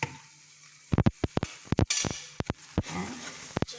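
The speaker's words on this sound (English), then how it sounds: "just give a stir so that the ghee flavor also goes into it" Metal spoon stirring homemade ghee into a coconut barfi mixture in a pan over low flame, a series of sharp scraping clinks and taps against the pan in an irregular rhythm, close and fairly loud.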